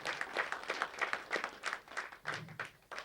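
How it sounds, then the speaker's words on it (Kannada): An audience at a film audio launch ceremony applauds, a short burst of crowd clapping with uneven pulses, moderately near and fairly loud, fading slightly toward the end. "ದಯವಿಟ್ಟು ನನಗೋಸ್ಕರ ಅವ್ರಿಗೊಂದು ಚಪ್ಪಾಳೆ ಕೊಡೋ ಥರ ನಾನು ಕೇಳ್ಕೊಳ್ತಾ ಇದ್ದೀನಿ."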